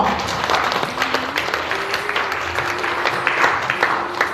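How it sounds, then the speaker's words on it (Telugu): A church congregation claps loudly and steadily throughout a worship service, a dense wash of many hands close by, with a faint held tone running beneath it. "ఒకసారి అందరం దేవుని గట్టిగా చప్పట్లు పెడదామా"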